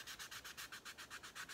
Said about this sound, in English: So I'm just sanding it down.